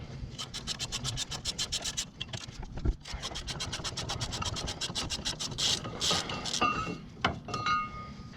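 Rapid ratcheting clicks from a wrench loosening the bolts holding a brake bracket to a Ford Transit Connect's steering knuckle, in quick even bursts, with a faint engine hum in the background.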